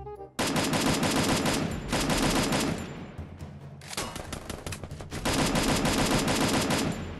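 Rapid automatic gunfire in a battle-royale video game, with a submachine gun or assault rifle firing in long loud bursts separated by short pauses, repeating across the clip.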